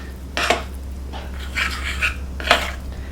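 A spoon scrapes and clinks around a bowl while mixing peanut butter for chocolate-dipped banana frozen treats, giving three short, close bursts of scraping over a steady low hum.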